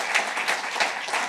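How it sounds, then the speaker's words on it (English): Brief burst of audience applause at a banknote and coin launch event, dense crowd clapping with no speech over it. "I think that deserves a round of applause"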